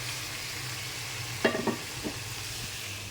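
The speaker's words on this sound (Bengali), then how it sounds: "তেলের মধ্যে মাছ দিয়ে দিলাম" Pomfret fish frying in hot oil in a home kitchen, a low steady sizzle with a few sharp scraping and knocking stirs clustered in the middle.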